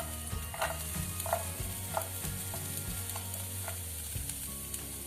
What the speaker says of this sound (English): Now we'll saute onion and garlic for 1 minute.